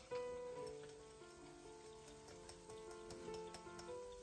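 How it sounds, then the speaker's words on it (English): A dish seasoned with nutmeg sizzles and simmers in a pan while being stirred, giving a steady close frying hiss with soft scraping and light clinks throughout, no talk. "I'm going to stir this around, cook it for another 10 minutes."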